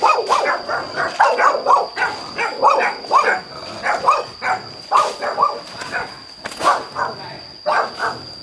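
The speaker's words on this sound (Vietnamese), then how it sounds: "Ôi, chó ghê vậy." A dog barks repeatedly and loudly at close range in steady bursts, with a thin constant whine in the background.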